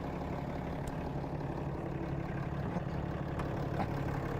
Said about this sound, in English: You guys might hear this truck running right now.